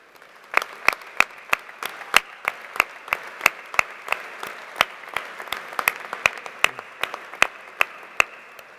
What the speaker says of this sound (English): Please join me in applauding them as they rise